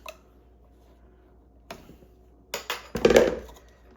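A spoon scrapes and clinks against a KitchenAid grater attachment while guiding food out: a few faint taps first, then a burst of louder metallic scraping and knocking close by.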